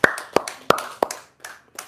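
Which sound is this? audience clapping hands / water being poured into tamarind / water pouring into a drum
audience clapping hands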